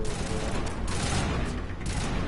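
Gunfire during a firefight in Mass Effect, a continuous loud barrage of rapid shots and impacts with dense rumbling low end and no pause.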